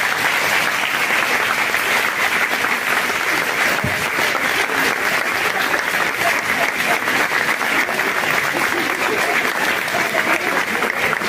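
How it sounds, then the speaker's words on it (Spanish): Large crowd at a women's gathering breaks into long, loud applause, dense sustained clapping that stays strong and even without letting up. "quisiera que entre todos le brindemos un fuerte aplauso"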